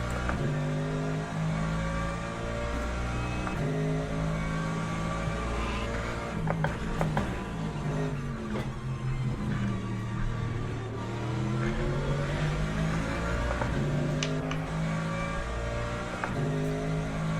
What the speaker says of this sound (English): This is the second time the hypercars have come through in half an hour.